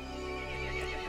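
A horse in a Resident Evil Village game scene whinnies briefly, a short, close neigh over a steady low rumbling game ambience.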